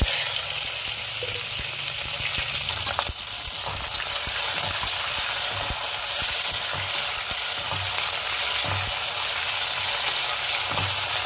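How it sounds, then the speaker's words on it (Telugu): Mixed vegetables frying with whole pulao spices for vegetable biryani, a dense, continuous close-up sizzle broken by periodic spoon scrapes and clinks against the pan, steady and fairly loud, with no talking. "ఇంక వెజిటేబుల్ మొత్తం వేసేసుకొని బాగా ఫ్రై చేసేసుకున్నాం"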